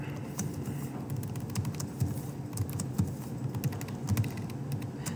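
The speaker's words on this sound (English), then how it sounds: "don't worry about me typing fast" Rapid, soft keystrokes patter steadily on a computer keyboard during fast typing, faint over a low background hum, with no talking.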